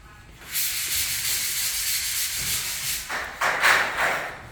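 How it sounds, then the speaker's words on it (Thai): Sanding over ceiling plaster, a close, continuous rough rubbing hiss in long strokes that swells louder near the end, with no voices. "ไล่ขัดลงมาแล้วครับ"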